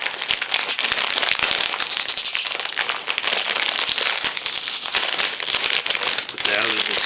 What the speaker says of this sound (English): Now let's rip this open.